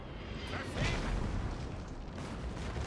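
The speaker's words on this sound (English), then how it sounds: "Yeah, fire at the cannon." Cannon fire from a Napoleon Total War battle in the Prussia campaign booms faintly, a muffled low rumble with a brief burst under constant background noise.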